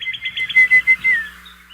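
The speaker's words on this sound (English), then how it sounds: "what about these cardinals right here? Listen to these." Cardinals chirp in a quick series of high, bright notes, then give a few longer whistled calls, close and clear over a quiet background.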